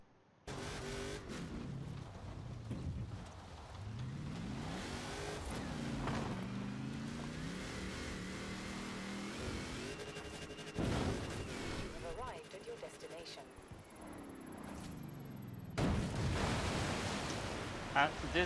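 A car engine in Forza Horizon 4 revs while driving, loud and continuous, rising and falling in pitch as gears shift, with brief crashes and bursts of noise along the way.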